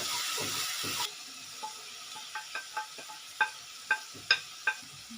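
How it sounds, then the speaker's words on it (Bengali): Egg fried rice frying in a pan, a low steady hiss broken by a handful of sharp scraping stirs that grow louder toward the end, with no talking. "এটাকে একটু ভেজে নিচ্ছি"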